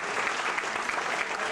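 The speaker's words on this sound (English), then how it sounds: "Let's give our volunteers a great round of applause." A short burst of dense, steady clapping from an audience at a hypnosis stage show, cheering on the volunteers.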